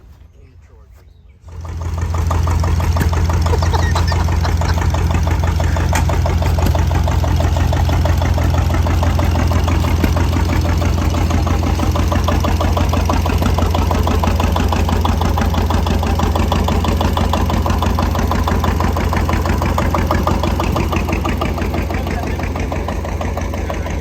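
An old engine at a summer show catches and then runs steadily and loudly, holding a constant throbbing drone close by after a quiet start.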